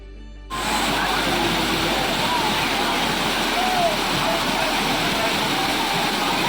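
Constant roaring rush of Thirparappu Waterfall, loud and close, steady throughout after a short quieter start.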